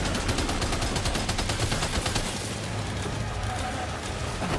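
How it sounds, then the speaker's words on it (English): Rapid machine gun fire in the video game Death Stranding 2, a dense, steady stream of shots running continuously and loudly for several seconds with little letup. "this machine gun is doing the work"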